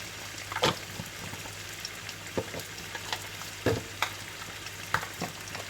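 Chicken karhi masala frying as coriander powder, turmeric and spices go in, a gentle steady sizzle punctuated by a few clinks and scrapes of a spoon stirring, quiet and close.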